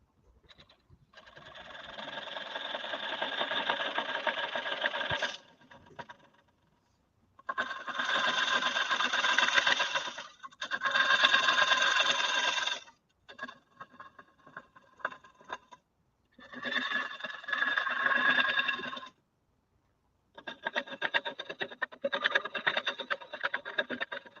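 Sycamore wood turning on a lathe under a carbide scraping tool, heard as several sustained rasping, whirring bursts separated by short pauses, close and fairly loud with no talking.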